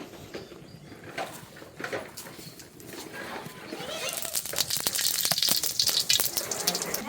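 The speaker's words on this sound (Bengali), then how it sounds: "আমার জিরার তেজপাতাটা ভাজা হয়ে গেছে" Cumin seeds and bay leaves, with whole garam masala, fry in hot oil in a home kitchen, a soft crackle that swells into a louder, busy sizzle during the second half.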